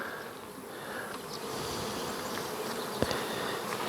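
Dense, steady drone of many honey bees swarming around hives after they were opened and pillaged, a continuous insect buzz close by with no talk.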